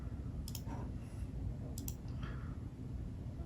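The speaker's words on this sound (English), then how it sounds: "I'm just going to go ahead and click download" Two crisp computer mouse clicks, about a second and a quarter apart, sounding close and fairly quiet over a low background hum.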